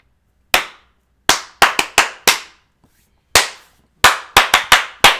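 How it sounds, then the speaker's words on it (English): Sharp, isolated hand claps close up, about a dozen loud smacks in uneven groups with short gaps and quick doubles, ringing briefly in a quiet room. "Give them the clap"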